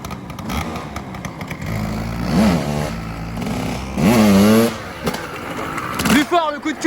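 Motorcycle engine revving in repeated surges as a rider lifts the front wheel for a wheelie during wheelie coaching, with rising pitch sweeps, loud and close, and brief speech-like fragments between.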